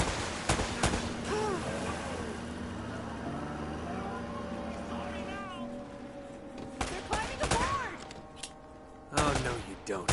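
Gunfire in the action game Uncharted: dense bursts of shots early on, then sharper isolated cracks toward the end, mixed with a low engine-like drone and someone talking over the action.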